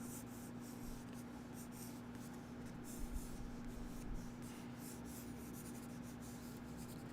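A brown pencil scratches across paper in a continuous, faint, papery rubbing, close up with a low steady hum underneath.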